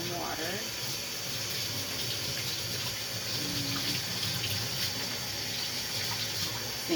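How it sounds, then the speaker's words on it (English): Warm water runs steadily from a tap into a laundry room sink, a continuous close rushing stream with no talking over it. "So I'm gonna go ahead, turn on some warm water."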